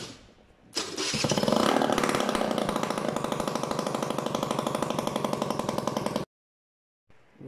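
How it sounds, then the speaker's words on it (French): A Kisbee RS two-stroke scooter engine with a new cylinder and piston fitted and no exhaust mounted starts and runs with a loud, raspy, fast buzzing idle close by, then cuts off abruptly. "Voilà, le scooter il a démarré."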